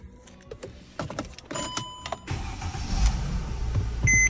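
A 2008 Mercedes C300, just repaired for a bad ground, cranks and settles into a steady idle, with clicks and electrical chimes before the engine catches and a continuous close running hum after.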